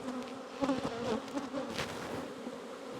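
Honey bees buzz steadily around an open hive while being shaken into a nuc box, a dense close swarm drone with a few louder passes near the start.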